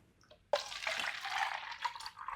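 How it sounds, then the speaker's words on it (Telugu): Leftover water is poured into a container, a soft trickle that starts abruptly and then runs as a continuous splashing stream, close and fairly quiet. "కొన్ని ఉన్నప్పుడు ఈ డబ్బాలో పోసుకోవాలి ఇట్లా మొత్తం"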